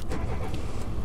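In the video game Slow Drive, a car engine roars loudly and continuously, a dense low growl with faint rattling on top and no voices.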